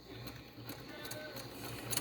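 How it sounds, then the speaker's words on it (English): A sewing machine stitches a quilt block, its rapid mechanical clatter forming a continuous rhythmic whir, fairly quiet and close, with no voices. "And let's go to the sewing machine."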